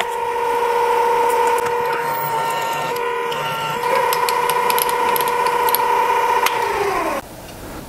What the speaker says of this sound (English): And drilling out for a tap drill for 1/4 by 20.